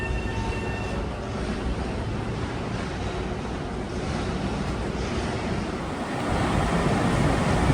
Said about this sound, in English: arriving track 7 is train 1968 for Ronkonkoma from Penn Station. Got a brace of Bombardier M7s